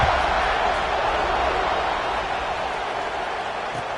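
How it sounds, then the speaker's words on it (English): A football stadium crowd cheers as a continuous broad roar ahead of a kickoff, loud and even, fading slightly over a few seconds. "this crowd now ready to get behind them"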